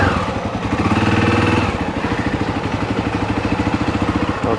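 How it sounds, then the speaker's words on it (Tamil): A 250cc motorcycle is ridden on a road in Cambodia, its engine putting out a steady, close, pulsing drone with a brief rise in revs before settling into an even rhythm. "இப்போ நான் இந்த பைக் ஒருக்கா ஓடி பார்க்க போகிறேன்."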